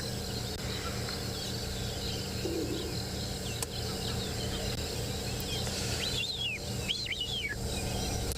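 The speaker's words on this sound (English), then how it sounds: "White-faced whistling ducks." White-faced whistling ducks give a few high, clear whistled calls toward the end, over a steady wash of insect and ambient bush noise at sunrise in the wild.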